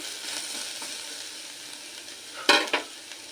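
Sabudana mixture stirred in a frying pan with a utensil, soft sizzling and scraping throughout, then two sharp metallic knocks of the spoon against the pan near the end.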